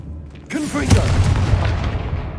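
A Confringo fire-blast spell bursts in Hogwarts Legacy, a sudden deep boom followed by a rolling, crackling rumble that carries on close and loud to the end.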